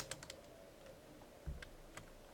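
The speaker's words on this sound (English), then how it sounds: "I'm going to type in a smaller number" Brief bursts of typing on a computer keyboard, several quick key taps in an uneven cluster followed by a few scattered presses, close and fairly faint over a steady low room hum.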